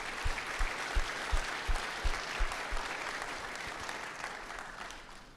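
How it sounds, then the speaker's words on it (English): Applause from a community meeting audience for local fire departments and first responders during a wildfire briefing, fairly distant and steady for about five seconds and fading at the end, with a few distinct claps standing out early on. "So I'd like to give them a round of applause."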